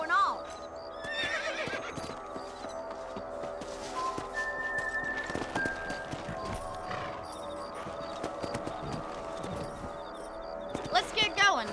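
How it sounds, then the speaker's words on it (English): A horse in the Red Dead Redemption video game whinnies loudly at the start and again at the end, while steady clip-clopping hooves run beneath other game sounds. "Let's get back on the horses and see what else is going on."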